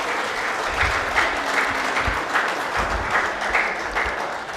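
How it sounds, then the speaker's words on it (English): An audience at a college alumni golden jubilee celebration claps for an honoree on the dais, a short burst of dense, steady applause from a crowd. "Why this clap?"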